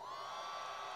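Audience at an orchestral concert, giving a warm round of applause: a steady, dense wash of clapping with faint cheers and whoops, unbroken and fairly distant.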